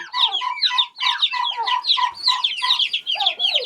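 Busy, overlapping clucking and chirping from a turkey and chicks close by, a continuous chatter of short calls with no pauses.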